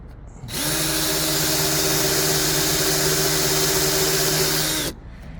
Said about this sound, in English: Probably use my drill press.